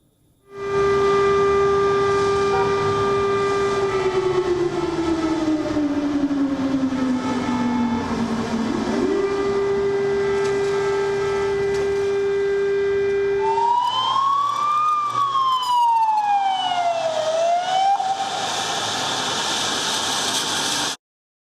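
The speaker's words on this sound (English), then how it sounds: "Air raid sirens were sounded across the country." A loud, steady wailing air raid siren rises and falls slowly, then shifts to a higher sweeping tone, continuous throughout, sounding across Ukraine during wartime.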